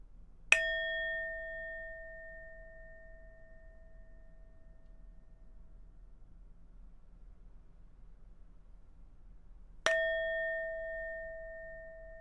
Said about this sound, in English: just listen to the bell.